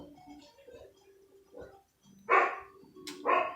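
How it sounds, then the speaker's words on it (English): A pair of sharp dog barks in a vampire-hunting video game, set in the last city before Dracula, sound over quiet game music with a faint ticking beneath. "There goes the dogs."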